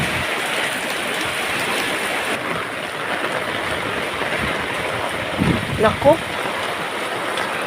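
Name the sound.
river stream flowing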